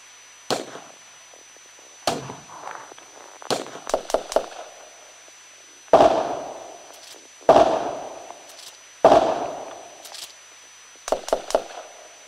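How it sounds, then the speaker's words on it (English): Gunfire in an audio drama: sharp cracking shots come in irregular single reports and quick bursts of two or three, each with a short echoing decay, close and loud, with no voices between them. "Dispatch, I'm hearing gunfire."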